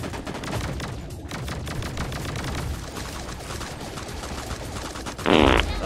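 Laser gun fire in the battle game Sausage Man, a fast, unbroken stream of electronic shots, with a louder burst near the end.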